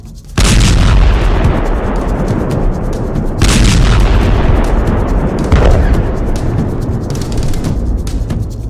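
Artillery shells and gunfire in Gaza produce several heavy booms with long rolling rumbles between them, loud and reverberant, against a continuous roar of distant fire.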